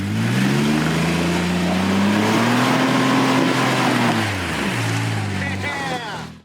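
A Jeep engine drones and revs on an off-road backcountry byway, its pitch rising and falling through a steady, loud run under a faint voice before easing off near the end.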